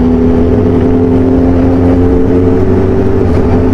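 Loud, close superbike engine droning at a steady pitch, a sustained roar that holds level throughout with no talking.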